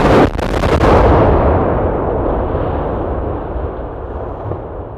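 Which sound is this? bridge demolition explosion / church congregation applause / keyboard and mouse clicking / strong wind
bridge demolition explosion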